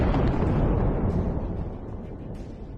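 A tank explodes in combat between Ukrainian and Russian forces, a loud, dense rumbling blast that fills the whole clip and slowly fades without any talk.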